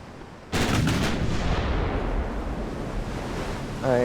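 A heavy warship gun salvo in Ultimate Admiral: Dreadnoughts booms loudly and rolls into a long rumbling decay over a sea-and-wind bed, with a brief voice at the end.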